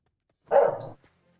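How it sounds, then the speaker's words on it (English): A dog gives a single loud bark nearby indoors, one short gruff burst followed by a faint trailing sound, with no talking. "my dog is coming in here barking"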